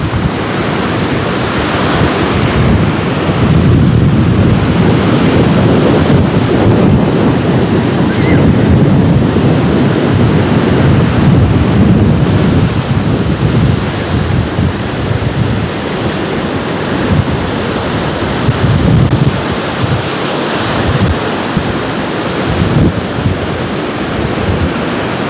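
Stormy winter sea on the Anapa coast: loud, continuous roaring surf with waves crashing in surges, heavy wind buffeting the microphone throughout, close and overwhelming, no talking.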